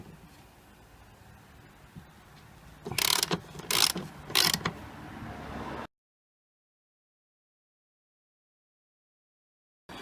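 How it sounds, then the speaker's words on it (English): Three short bursts of a ratchet clicking as 13mm strut nuts come off the front suspension of a BMW E46, close and crisp, then silence. "So next we're going to remove these 3 nuts"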